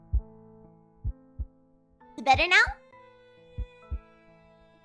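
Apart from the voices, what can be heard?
heartbeat sound effect in the video game A Tithe in Blood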